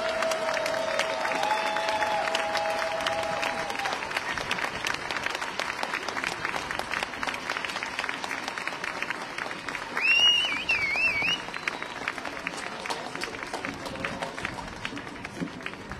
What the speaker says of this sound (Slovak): Poprosím tiež o veľký potlesk pre nich.